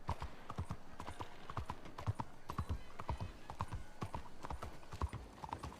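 A horse trots steadily in the Red Dead Redemption 2 video game, with rhythmic, fairly close clip-clop hoofbeats repeating throughout at moderate volume.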